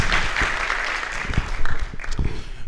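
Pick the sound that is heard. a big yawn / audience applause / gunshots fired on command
audience applause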